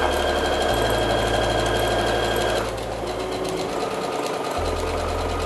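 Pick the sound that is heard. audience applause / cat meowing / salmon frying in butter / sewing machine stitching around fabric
sewing machine stitching around fabric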